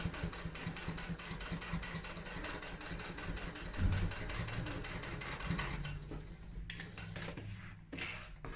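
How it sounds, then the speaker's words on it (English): A sewing machine stitches a seam on a fabric wristlet with a 3/4-inch seam allowance, its motor whirring steadily and close with a rapid needle rhythm before the run eases off near the end. "sew down with a 3/4 of an inch seam allowance"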